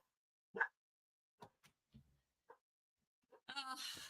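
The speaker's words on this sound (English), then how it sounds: "And a dog barking." A dog barks a few short, separate times at medium distance in a quiet indoor room, and the clip closes on a louder, longer sustained burst.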